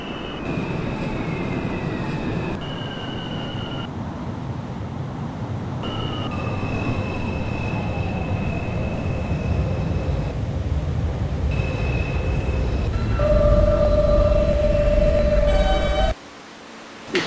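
In the OpenBVE simulator, an R179A E subway train at Canal Street station pulls in and departs. Heavy steady rail rumble builds, electric motor whines sweep in pitch, and a series of steady tones sound before an abrupt cutoff.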